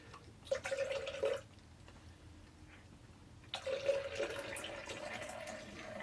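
Beer glugs and splashes vigorously into a 24-ounce glass in two separate bursts of pouring, a bubbly liquid rush with a quiet pause between them.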